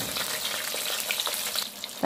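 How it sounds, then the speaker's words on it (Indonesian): Potatoes fry in hot oil, giving a continuous close sizzle with small crackles and pops, and no voices. "tapi saya akan goreng dulu nih kentangnya sampai matang"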